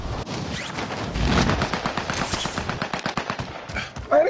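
Rapid bursts of automatic gunfire from a gun in Call of Duty, firing near and loud in quick, uneven volleys across the whole stretch, ending with a sharper shot.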